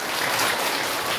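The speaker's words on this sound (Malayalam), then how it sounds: "ഒന്നുകൂടെ കൈയടിക്ക്" An audience applauds steadily, a dense even wash of clapping at moderate distance without individual claps standing out and no speech over it.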